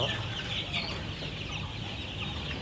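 A crowd of chickens clucks and chatters continuously, a dense, steady flock noise close by.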